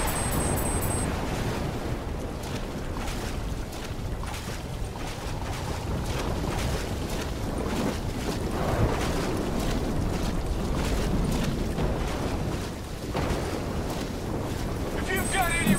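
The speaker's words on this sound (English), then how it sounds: "Waves hitting now." Storm waves crash against a boat in the Call of Duty: Black Ops 3 mission In Darkness, a steady loud roar of surging water and wind running the full length, with brief game interface tones at the start and end.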